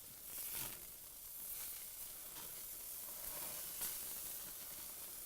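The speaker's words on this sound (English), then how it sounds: "I just like to give them one more flip over onto that edge to get a really good crispy bacon" Bacon strips sizzle and crackle steadily in a hot pan while being flipped for a last crisping, a dense continuous hiss with a few brighter pops, fairly close and alone.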